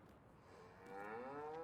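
A cow on a farm lets out a single long, rising moo after a quiet stretch, fairly close and clear, with no talk.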